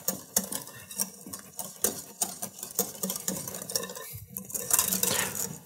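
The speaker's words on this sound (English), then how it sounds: "we just want to get it combined and keep stirring it until it's cooled" A pumpkin mousse mixture is stirred in a pan as a utensil clinks and scrapes against the metal in quick, irregular strokes, close but fairly quiet.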